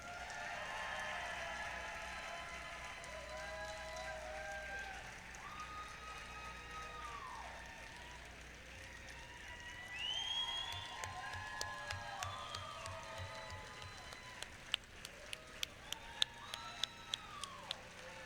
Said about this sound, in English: Let's give these 4 incredible educators another round of applause.